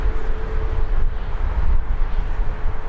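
Ryanair jet airliner taking off at Birmingham Airport, a steady loud roar of engines with heavy low rumble and some wind buffeting, close and continuous throughout.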